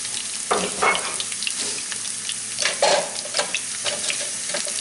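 Sliced garlic and chili pepper fry in oil in a pan, sizzling steadily while being stirred. The sizzle swells with a few louder bursts, heard close with no talk.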